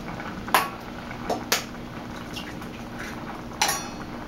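Kitchen sounds while adding eggs to bread dough in a bowl for a fennel sausage loaf: three or four sharp clinks of utensils or shell against the bowl, spaced apart over a quiet background hum.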